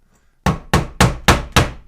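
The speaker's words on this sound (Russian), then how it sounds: "Блочок пришел, без молотка никак." Five sharp hammer blows strike the immobilizer unit of a 2001 Chrysler Voyager at a steady rhythm, each knock loud and close with a short ringing decay.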